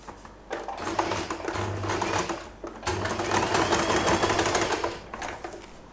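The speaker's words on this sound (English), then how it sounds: "I like to sew a temporary stitch right here" A sewing machine runs a temporary stitch through the fabric of a puffy hair bow in two rapid whirring bursts, each a fast mechanical rattle, separated by a short pause.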